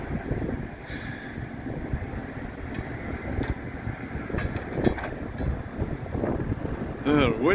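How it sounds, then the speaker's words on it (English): Strong wind buffets the microphone outdoors beside a railway curve during tie replacement work, a continuous low rumbling roar with gusty swells; a voice briefly cuts in at the end. "Wind's blowing pretty good up here."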